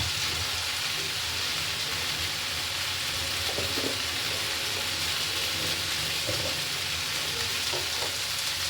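Pointed gourd pieces and spices are stirred in hot oil in a pan, ready for fish, giving a continuous loud sizzle and crackle with occasional scraping clinks from stirring and no voices.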